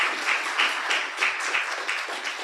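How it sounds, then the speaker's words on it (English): A crowd at a healthcare summit applauds. Brisk, fairly loud group clapping holds steady throughout with a slightly pulsing rhythm, and no voices are heard. "Give him another round of applause"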